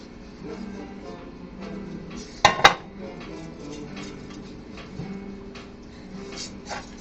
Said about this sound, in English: And I'm going to cover this pan while I cook it.